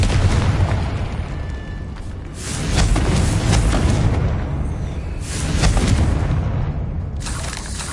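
Explosion effects from the Confringo fire spell in the video game Hogwarts Legacy, several heavy booming bursts with broad rumbling noise rolling through a loud, continuous game soundscape.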